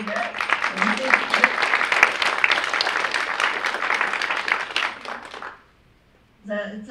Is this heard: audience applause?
yes